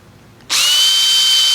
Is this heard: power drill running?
yes